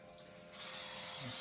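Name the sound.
cooking oil spray on air fryer grill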